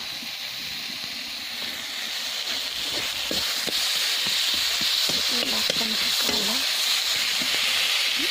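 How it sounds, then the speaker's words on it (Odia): Rohu fish fries in hot oil with turmeric, producing a loud, continuous close-up sizzle and hiss with scattered spitting pops throughout. "ଏବେ ମାଛ ଭଜା ହବ ଆମର।"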